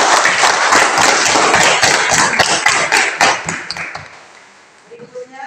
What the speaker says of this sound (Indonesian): Oke, mari kita tepuk tangan untuk teman-teman.